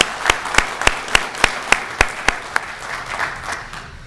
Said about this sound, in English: So how about a round of applause for 3 generations of dedicated service?